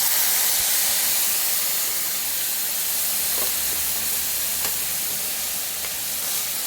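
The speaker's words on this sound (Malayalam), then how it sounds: "തക്കാളി ചമ്മന്തി ഇങ്ങോട്ട് ഒഴിക്കുകയാണ്." Tomato chutney tipped into hot oil with mustard seeds, dried red chillies and curry leaves, giving a steady, loud hissing sizzle that fills the whole stretch without letting up.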